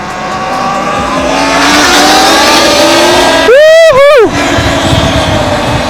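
A Komodo electric motorcycle accelerating hard, a loud close rising whine with a sharp high-pitched surge midway, while excited voices carry over a windy background.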